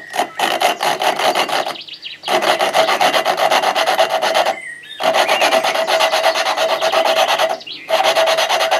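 An engine valve on a Husqvarna YTH150 ride-on mower is lapped by hand, giving a loud, close gritty rasp in back-and-forth strokes, in several long bursts separated by short pauses.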